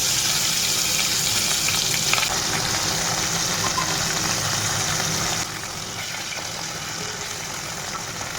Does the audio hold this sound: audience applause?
no